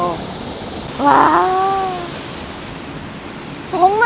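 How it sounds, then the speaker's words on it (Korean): Yongso waterfall in Deokgu Valley pours with a steady, broad rushing roar that fills the whole scene, while people's voices exclaim briefly over the water. "여기가 바로 덕구 계곡의 하이라이트, 가장 비경이 좋다는 용소폭포입니다"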